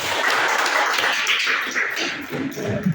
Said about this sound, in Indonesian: Kasih aplaus dulu buat Pak Bagas.